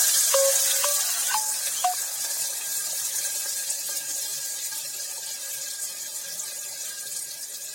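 A large onion hitting hot spiced oil while cooking mutton kurma, giving a steady broad hiss that slowly fades with a few faint squeaks early on, no voices.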